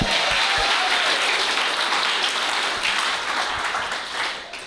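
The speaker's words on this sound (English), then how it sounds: "Give another round of applause to everyone that came up before me." Steady, dense applause from a comedy show audience honoring earlier performers, loud and continuous throughout with a faint cheer, then easing slightly near the end.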